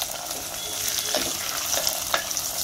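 Sliced onion fries in a pan toward a reddish colour, giving a close, steady sizzle with a few quick stirring scrapes and no talking.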